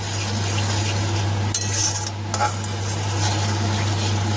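Turmeric, cumin and salt masala stirred in a frying pan with hot oil, giving a steady close sizzle with a low continuous hum beneath and a few soft scrapes of the spoon against the pan.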